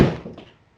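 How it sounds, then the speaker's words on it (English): A dog asleep on a beanbag chair tumbles off, making a single loud, dull thud that decays quickly into silence. "If you heard that loud bang, that was my dog falling off the beanbag chair while she was sleeping."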